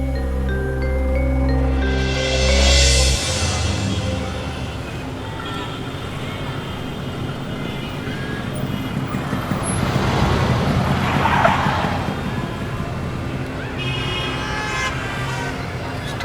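Busy road traffic rolls past with several car and bus horns honking, a long loud toot early on and repeated shorter beeps later over a steady engine rumble.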